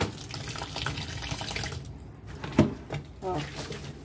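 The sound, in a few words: water poured into a basin with soap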